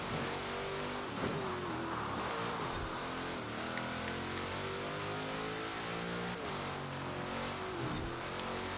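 A Ford Shelby GT500 races in Forza Horizon 4, its engine holding a loud, continuous roar with rising and falling revs and brief dips at gear changes.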